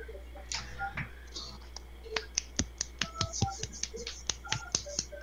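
Sharp hand claps in an informal live stream setting, sounding as scattered, uneven bursts of close snaps and pops, building into denser irregular clapping after the first couple of seconds.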